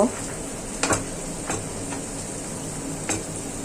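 Potatoes go into spice paste frying in a pan for a small-fish curry, giving a steady soft sizzle with a few sharp clinks of a spoon against the pan scattered through.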